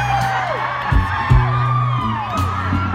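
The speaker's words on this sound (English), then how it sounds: "I have so much fun hearing you scream random things." A live crowd at an outdoor music festival screams and whoops continuously, with loud overlapping cheers and yells rising and falling across the whole stretch.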